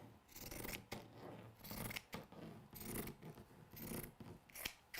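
Scissors snip repeatedly into fabric at close range, a series of quiet crisp cuts in an uneven rhythm with slight rubbing between them.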